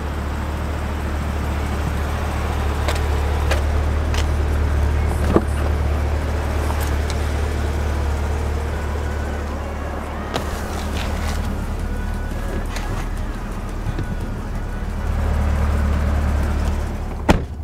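A 2020 Corvette C8 idles with a steady low engine rumble, loud and close, with a few faint clicks and knocks over the hum and no talking.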